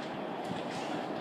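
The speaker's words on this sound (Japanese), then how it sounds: "東海道線下り列車熱海行き発車いたします。" Dense rumbling rail noise of a Tokaido Line train departing Shinagawa Station platform 12 for Atami, steady and broadband with faint rattling, no speech audible.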